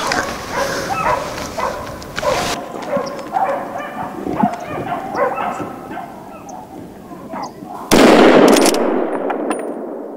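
Hunting dogs bark and yelp while driving wild boar out of cover on a driven boar hunt in Hungary, with rapid overlapping barks and a sudden loud burst near the end that fits gunfire.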